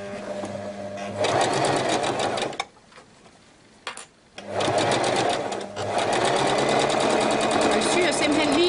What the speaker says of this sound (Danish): Så skal vi have syet en ligeud søm her henover, så vi får dannet løbegangen til snoren.